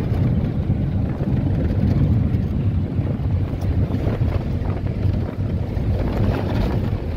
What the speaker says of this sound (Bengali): এমন মনে হচ্ছে যেন হাওয়াতে পুরো একবারে উড়িয়ে নিয়ে চলে যাচ্ছে।